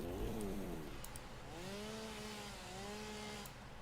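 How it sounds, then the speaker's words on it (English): Chainsaw in the video game Satisfactory, a steady motor drone with rising and falling engine pitch, fairly faint and continuous throughout, no voices. "We need the chainsaw again."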